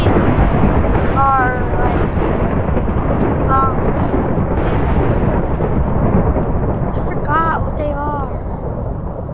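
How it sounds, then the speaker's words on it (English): Minecraft fireworks fired from toy guns during a murder mystery game: a loud, continuous booming rumble with several short whistling streaks cutting through. "Oh, the toy guns are firework things."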